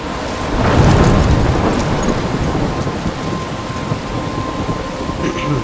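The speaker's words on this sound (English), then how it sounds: "I'm trapped in a storm." Thunder rumbles over steady heavy rain in a stormy scene from the video game Life Is Strange, with a loud roll early on that eases into continuous downpour.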